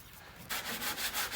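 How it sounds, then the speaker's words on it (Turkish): Hand sanding on painted wood, rubbing off masking gel: a quiet start, then rhythmic back-and-forth rubbing strokes, close and steady. "Şimdi zımparalıyoruz. Bakın maskeleme jelleri çıkıyor zımparamızla."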